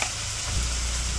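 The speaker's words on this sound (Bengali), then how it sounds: "মশলাটা কষে দিই, তারপর সবজিগুলো দিয়ে দিই।" Turmeric, chili powder, ginger and garlic sizzle steadily in hot oil in a pan, a continuous close frying crackle with no talking.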